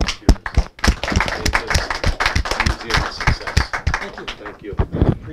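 Clapping from an audience applauding volunteers at a community coffee-and-conversation gathering, dense irregular hand claps close by with a voice talking over them throughout.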